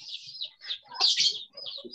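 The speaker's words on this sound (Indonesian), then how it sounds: "Ada suara burung itu Pak Sulaiman." Bird calls recorded indoors during an online tax law class, a series of short bright chirps and twittering phrases, moderately near, filling the quiet between other sounds with no talking.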